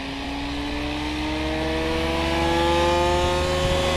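The motor of a Goblin 500 RC helicopter spins up, a smooth whine with layered tones that rises steadily in pitch and grows slightly louder over a few seconds, with no talk.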